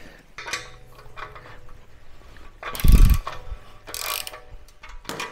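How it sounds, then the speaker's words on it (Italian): A wrench works a bolt loose on a Royal Enfield Himalayan 410 motorcycle: scattered metallic clicks and light ratcheting taps, then a louder clunk and rattle partway through, close up with no talking. "ora andiamo a svitare questa che ovviamente è una chiave un po' più larga"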